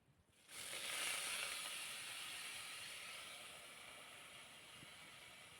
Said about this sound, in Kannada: ಅದ್ರೊಳಗೆ ಬೆಳ್ಳುಳ್ಳಿ ಹಾಕ್ಕೊಂಡು ಡೈರೆಕ್ಟ್ ಅದ್ರೊಳಗೆ ಮಟನ್ ಪೀಸ್ ಹಾಕೋತೀನಿ ನೋಡ್ರಿ